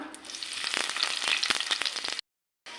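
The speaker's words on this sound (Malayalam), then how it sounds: "നമ്മളെ എണ്ണ ചൂടായിട്ടുണ്ട് അതിലേക്ക് നമ്മളെ ഉള്ളി മുറിച്ചത് ചേർത്ത് കൊടുക്കാം" Chopped onion hits hot oil in a pan and fries with a loud crackling sizzle, sharp pops scattered through the hiss, close up, then a brief cut to silence before the frying resumes.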